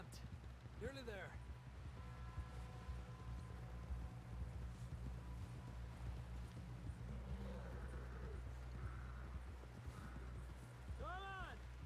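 Horse hooves clip-clop steadily in Red Dead Redemption 2 as a rider heads toward camp. A low engine-like drone of game music or ambience runs beneath, with occasional voices and a whinny-like call near the end.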